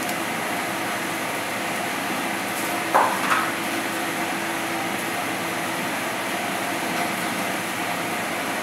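Experimental DC motor running on only one magnet at about 4,000 RPM, a steady whirring hum with a brief clatter partway through.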